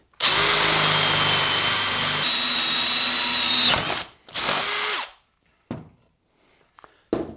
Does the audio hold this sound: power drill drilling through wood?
yes